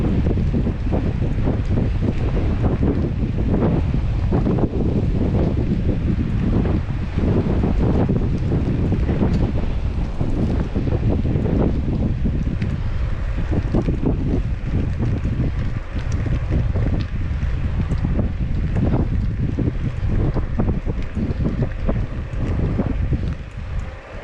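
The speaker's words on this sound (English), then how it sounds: "we're gonna get just hammered by the wind right here" Strong wind buffeting the microphone on a lakeside trail, a continuous loud rumbling roar that persists throughout with no letup, masking any other surroundings.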